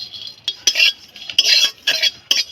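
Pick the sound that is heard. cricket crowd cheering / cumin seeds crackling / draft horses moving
cumin seeds crackling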